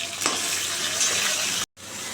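Fish frying in hot oil crackles with a continuous close sizzle, briefly cut to silence near the end.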